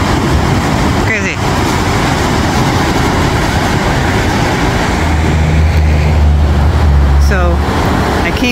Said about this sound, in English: the train is coming down the tracks